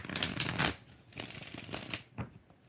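Tarot cards being shuffled by hand in a series of crisp riffling bursts, the loudest near the start, followed by lighter taps and flicks, close and with no voices.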